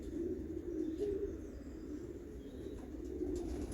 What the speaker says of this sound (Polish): Patrz jaki piękny gołąbek z rodziny Pantani.